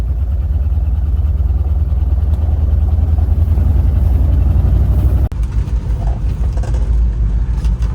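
A 1947 DeSoto Suburban drives along, its engine giving a steady, loud, low rumble over road noise. A brief knock sounds partway through, then the drive continues without talk.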